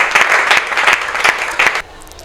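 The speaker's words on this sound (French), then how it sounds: "Vos applaudissements, les publics." Audience applause at a gathering of comedians and artists in Lubumbashi, a loud burst of clapping with rhythmic surges that stops abruptly near the end.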